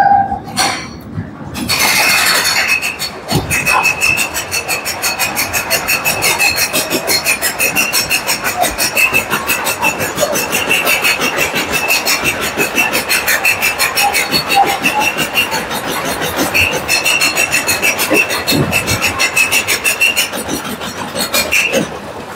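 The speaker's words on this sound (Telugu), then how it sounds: "సో టెర్మినేట్ ట్రైన్ అంటారు దీన్ని." A Terminator train ride at the Wonderla amusement park in Hyderabad, running in the dark with a steady rumble and rattling wheel clatter, a constant high whine above it, and a few louder knocks and bangs along the way.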